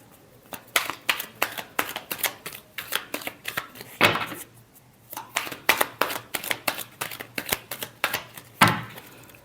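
Tarot cards are shuffled by hand in quick, rhythmic bursts of riffling and slapping, close up, with brief pauses between rounds and no talking.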